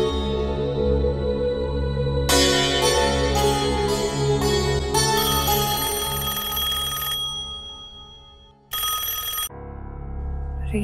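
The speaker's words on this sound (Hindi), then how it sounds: "रेशम प्लीज फोन उठा" A telephone rings in loud, bright bursts, several repeated rings in quick succession with a brief gap before a final ring.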